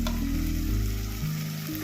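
Tomatoes cook down in a hot pan as the base for a mushroom curry, a short stretch of steady sizzling heard beneath background music.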